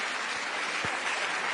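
Audience applause at the Bled Strategic Forum, a short burst of dense, steady clapping heard at moderate distance.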